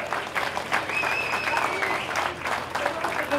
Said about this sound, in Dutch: En dan geven ze allemaal nog eens een welgemeend en daverend sportief applaus